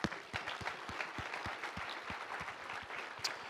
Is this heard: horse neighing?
no